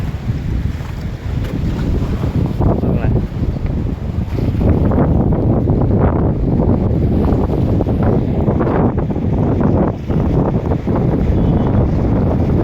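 Heavy sea wind roars under the Pamban bridge, buffeting the microphone in a loud, dense, unbroken rush mixed with water and wave noise, with no voices.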